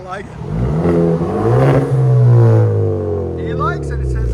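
A 2023 Genesis G70 2.0L turbo with resonator and muffler delete gives one loud rev that swells and falls back to a throaty exhaust drone, with brief talking at the end.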